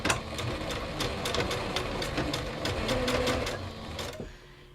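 Sewing machine stitching fabric ruffles, a close, steady mechanical whir with rapid needle clatter that runs for about four seconds, then stops and leaves only a faint hum.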